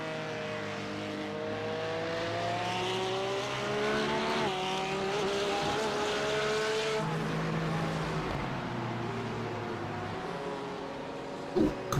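Race cars, including an Aston Martin and a Porsche GT3, howl around Hockenheim in a racing video game, engines rising and falling through shifts as cars pass, with a sustained layered whine and brief tire noise.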